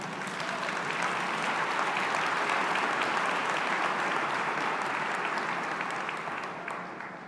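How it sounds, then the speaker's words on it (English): Audience at a leadership camp claps in a sustained, even wash of applause that holds steady, then tapers slightly near the end, heard from a slight distance. "I have no idea why they would clap for that."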